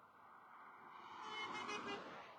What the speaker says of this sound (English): somebody honks